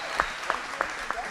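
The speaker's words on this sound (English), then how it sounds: "you can applaud for that." A small audience claps briefly and softly, with four spaced, distinct claps or bursts, during a talk about sustainable surfboards.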